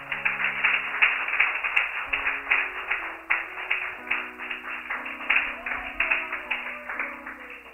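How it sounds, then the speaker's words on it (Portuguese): A church congregation claps in rhythm in praise of Jesus, steady beats repeating throughout, alongside sustained keyboard chords that shift underneath. "Dê para Jesus uma salva de palmas."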